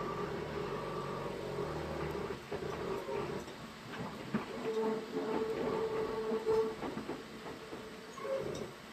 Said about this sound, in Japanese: 大阪難波駅方面から来た近鉄奈良線の普通列車と並走しています。